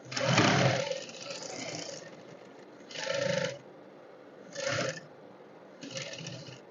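A sewing machine runs straight stitches on a bowtie in separate close bursts: a longer opening run, then three shorter ones separated by pauses, alone and without talk.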